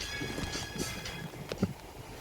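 Horse hooves clip-clop in a video game, a few faint, uneven hoofbeats that sound distant under a soft background wash.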